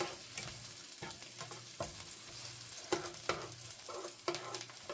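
Frozen onions sizzling steadily in a pan, a soft continuous fry punctuated by repeated scraping knocks of a spoon stirring them at irregular intervals; no talking.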